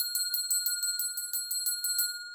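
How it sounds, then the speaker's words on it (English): A meditation bell used for chakra balancing rings in a steady series of about a dozen bright, evenly spaced strikes. Each strike lets its high, sustained tone carry into the next, close and clear, with no talk. "I know that some people can use bells,"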